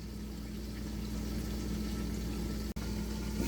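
Onions simmering in a pan after water is added give off a steady, close bubbling and sizzling hiss with an even level throughout, interrupted only by one brief dropout near the end.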